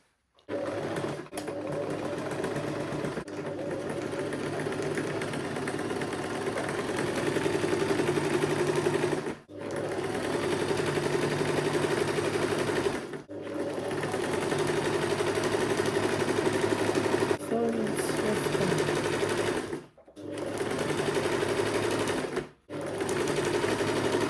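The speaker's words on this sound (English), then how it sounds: "I'm going to sew the shoulder together." A sewing machine stitches the shoulder seam of a butterfly bubu dress, whirring loudly and continuously in long runs broken by several brief stops.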